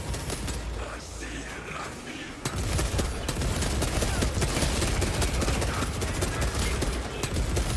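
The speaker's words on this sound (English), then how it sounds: "I do love a heavy bolter" Heavy bolter in a Warhammer 40,000 shooter game hammers out rapid, continuous bursts of heavy automatic fire, loud and close, kicking in suddenly after a quieter stretch and sustaining with faint chatter beneath.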